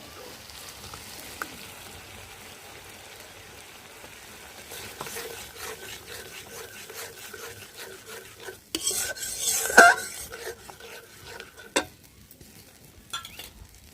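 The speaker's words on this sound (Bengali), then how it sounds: "এখন দিয়ে দেব সরিষা বাটা।" Mustard paste is stirred into frying spices in a pan for a shorshe ilish fish curry, with a low steady sizzle under repeated scraping and clinking of a spoon against the metal, growing busier and louder toward the end.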